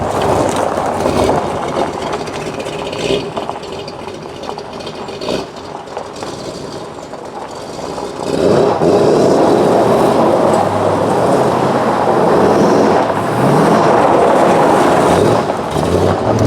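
A Chevrolet Corvette C3 on a road test, heard from inside as a steady, loud rumble of engine and road noise that swells louder about halfway through and holds there, with no talking.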